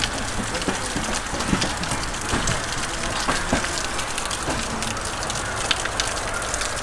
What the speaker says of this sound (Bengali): দেখা যাক এই বৃষ্টিকে সঙ্গে নিয়ে যাচ্ছি, কত দূর পর্যন্ত বৃষ্টি হয়।